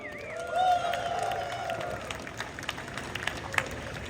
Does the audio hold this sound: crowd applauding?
yes